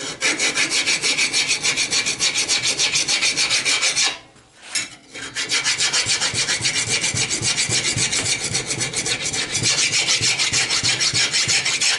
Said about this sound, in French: Je prends une lime et je les resurface carrément.